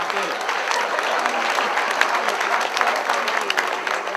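A crowd at a company's 70th anniversary celebration applauds in a sustained, dense ripple of many hands, with faint voices mixed in beneath the clapping.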